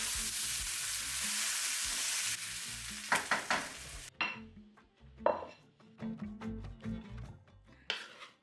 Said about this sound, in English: just stir everything